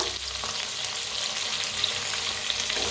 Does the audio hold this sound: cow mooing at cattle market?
no